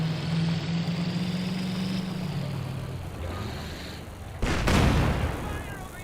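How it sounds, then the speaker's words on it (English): A King Tiger tank in Company of Heroes 2 rumbles forward with a steady low engine drone, then a loud sudden blast cuts in near the end, all without talk. "King Tiger advancing."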